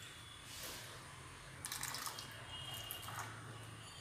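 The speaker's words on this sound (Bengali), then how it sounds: "আর হালকা করে একটু জল দেবো" Water poured lightly over hilsa fish as it is prepared for steaming, a soft trickling splash that swells briefly in the middle and then settles, quiet and close.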